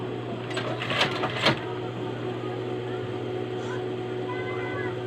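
A sewing machine runs in a steady, even whir while stitching a spaghetti-strap blouse, with a few brief clicks early on and a voice talking over the mechanical hum.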